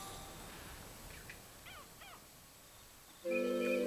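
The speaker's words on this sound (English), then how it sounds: "Oh, a couple of birds coming in." Birds flying in within the wildlife game Alba: A Wildlife Adventure, with a few faint chirping calls over quiet ambience, then a louder steady tonal sound entering near the end.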